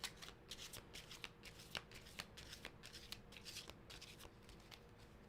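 Tarot cards are shuffled by hand in a quick series of crisp riffling bursts, close and fairly quiet, with no talking.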